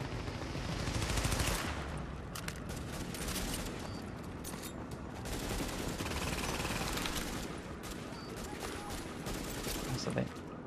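Rapid gunfire bursts from a PvP match in The Division video game, dense and continuous over a steady game soundscape, with a few sharper shots standing out.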